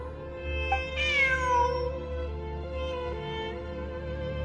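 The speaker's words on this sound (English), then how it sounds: "Look! A cat!" A cat gives a single clear, rising-then-falling meow over a steady background hum, close and fairly loud.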